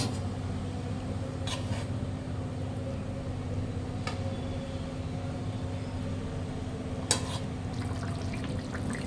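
Rohu fish simmering in a kalia curry in a pan: a steady, even bubbling hiss runs throughout, with a couple of faint clinks near the start and one sharper tap later.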